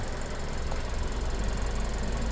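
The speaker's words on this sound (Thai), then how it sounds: "เสียงเครื่องยนต์นะครับ" A 2018 Toyota Camry 2.5G engine idles steadily with a low, even rumble and a faint knocking rattle, continuous and close, with no talking.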